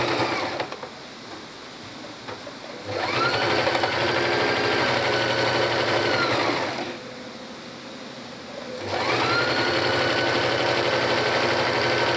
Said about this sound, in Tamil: சைடில் தைக்கணும்.